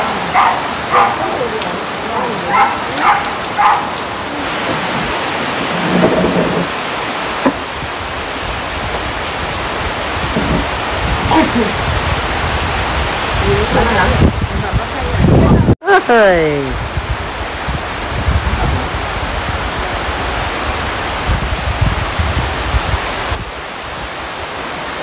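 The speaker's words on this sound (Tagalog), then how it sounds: "Pero dinig mo dito, oh, Ulan, ulan, ulan." Steady rain falls on a farm in Catanauan, Quezon, a constant close hiss of drops on surfaces, with people talking and exclaiming over it at times; no clear thunder stands out.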